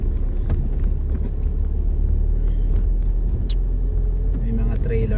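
Road traffic with trucks rumbles past on the Malico road between Isabela and Pangasinan. Engines drone steadily and close by, with occasional rattles and a voice speaking over the noise.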